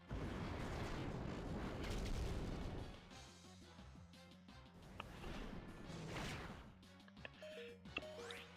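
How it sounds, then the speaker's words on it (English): Boom Burst hits in Pokémon Ultra Moon as a loud, rumbling blast that roars for a few seconds and then decays into lighter crashes and short electronic game tones. "Alright, so I did go for Boom Burst again."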